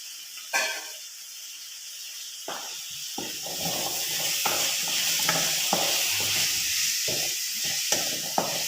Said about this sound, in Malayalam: അതിലോട്ട് ഞാൻ ഈ ചേമ്പും വിത്ത് കഴുകി വെച്ചത് അങ്ങോട്ട് ഇട്ട് കൊടുക്കുകയാണ്.